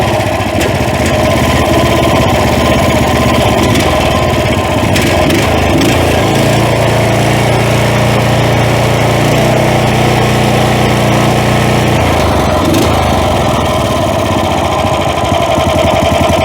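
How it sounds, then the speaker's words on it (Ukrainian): A small engine runs continuously with a steady, rattling, knocking idle, loud and close, its tone shifting briefly in the middle. "Послухайте, як працює двигун. Це холості оберти."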